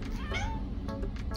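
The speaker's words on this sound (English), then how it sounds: "I have a cat" A pet cat gives a clear, close meow with a rising and falling wail, loud against a quiet indoor background, with no talking over it.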